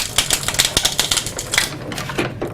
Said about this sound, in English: I'm going to pop these onto my die cutting machine. Give it a quick pass through.